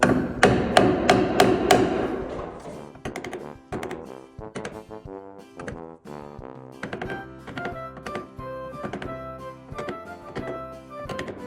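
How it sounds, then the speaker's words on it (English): A hammer strikes a chisel to mark lines into a wooden batten on a boat's port side during a build, a series of sharp, ringing knocks, fast at first and then in steadier repeated pairs, close and loud. "So I'm gonna put the lines in now with the chisel."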